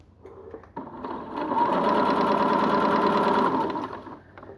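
A sewing machine stitches around the inside seam of a trouser leg on a flat bed, starting with a few slow stitches, then running at a steady fast whirring rhythm before slowing to a stop.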